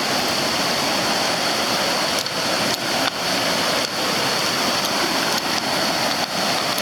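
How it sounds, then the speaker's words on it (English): A river flows outdoors in rainy weather with a loud, steady broadband rush of water, continuous and close, with no talking. "Here's the river."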